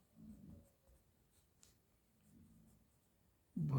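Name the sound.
pen writing on paper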